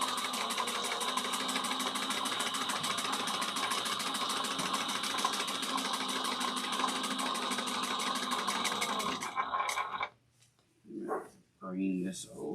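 A sewing machine runs steadily while back stitching a Nora bag pattern, its fast, even motor and needle rhythm continuing for about nine seconds before stopping, after which a person speaks briefly.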